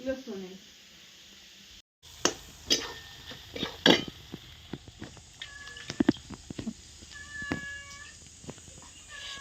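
A cat meows several times, short close calls scattered among clatter and handling noises, with people talking throughout.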